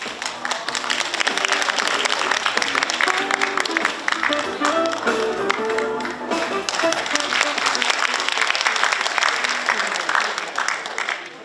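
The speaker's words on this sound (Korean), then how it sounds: "여러분 큰 박수로 무대 위로 모시겠습니다." Loud, sustained applause from a political rally crowd welcoming a speaker to the stage, dense clapping filling the whole stretch with crowd noise and a voice heard over it.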